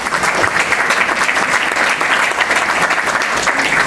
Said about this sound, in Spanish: Aplausos para la directora.